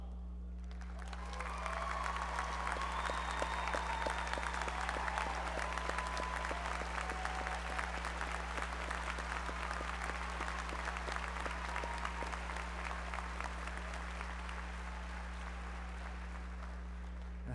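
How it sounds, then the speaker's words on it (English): At a university graduation ceremony, a large audience breaks into sustained applause for parents, a broad, even roar of clapping heard over a low steady hum, swelling in and tapering toward the end. "I'd like them to stand and for everyone to give them a round of applause."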